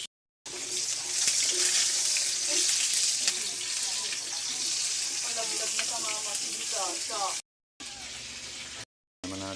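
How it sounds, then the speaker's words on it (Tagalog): Carrots sautéing in a pan, a steady loud broadband sizzle that runs almost unbroken, with clinks and clatter of cooking and brief cutouts near the end. "Igigisa muna natin yung carrots."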